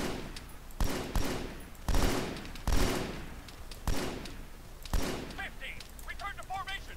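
Automatic rifle fire in Arma 3 during a jungle firefight, short bursts of sharp, loud shots repeating roughly every second, close to the listener, with faint radio voices and distant chatter underneath.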